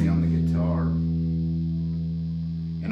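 Tom Anderson Bobcat electric guitar ringing out a sustained chord through an effects unit, a thick, slightly distorted tone with chorus, starting with a brief strummed attack and then decaying slowly, loud and close, no talking.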